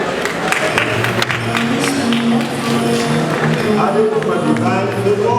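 An audience claps steadily at a university convocation ceremony in a large hall, a dense patter of hands that carries through the whole stretch while voices and amplified talk continue over it.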